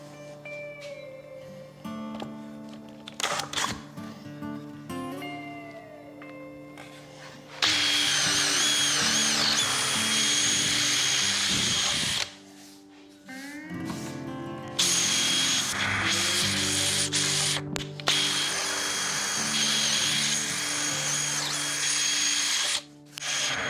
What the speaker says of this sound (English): drill out the rest of the hole from the bottom side and prevent tear out